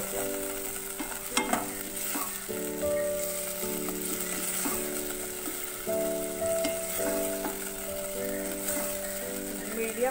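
Fenugreek (methi) leaves fry in a pan over a medium flame, a steady close sizzle with intermittent stirring scrapes over a continuous tonal musical backdrop.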